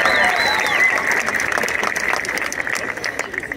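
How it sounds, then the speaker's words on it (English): Audience applause fills a university event hall, steady dense clapping throughout with a few faint whistles or cheers mixed in near the start. "You should be applauded for that."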